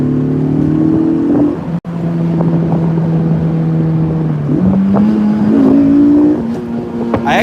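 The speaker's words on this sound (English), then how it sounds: "Got an exhaust, though, sounds like." A Mini, not the S model, fitted with an aftermarket exhaust accelerates nearby on the road, its engine note climbing steadily through rising revs with a brief gap partway, loud and close.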